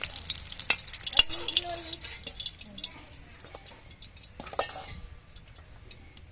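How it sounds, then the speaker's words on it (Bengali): Puli pitha dumplings frying in a pan of oil, a soft crackling hiss broken by light clinks and scrapes of a utensil, fairly quiet and close. "একইভাবে কিন্তু আমি সবগুলোই পুলি পিঠে ভেজে নিয়ে নিচ্ছি"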